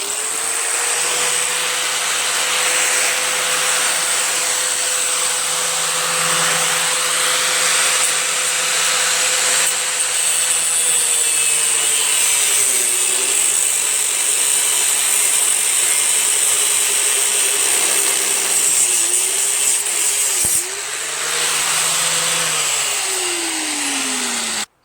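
An angle grinder cuts away a part on a Yardman MTD 4.5–5 HP 21-inch single-stage snow blower, a loud sustained whine held close for nearly the whole stretch, dipping in pitch as it bites into the metal, with no talk.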